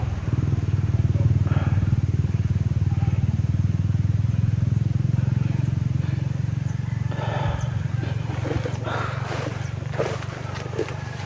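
A motorcycle engine rumbles steadily and fairly close for several seconds, a constant low drone with scattered clicks and faint voices above it, easing slightly as it continues.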